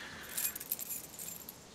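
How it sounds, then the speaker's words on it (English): Handcuff keys jangle in The Walking Dead video game, a short bright metallic rattle of several small clinks, near and alone. "Keys. Handcuff keys,"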